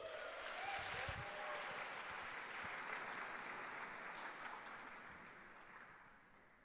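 Audience at a hackathon opening ceremony breaks into loud, sustained applause with cheering, a dense wash of clapping that slowly fades.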